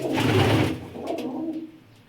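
A close, low pigeon coo, a throaty rolling call that swells and then trails off quietly.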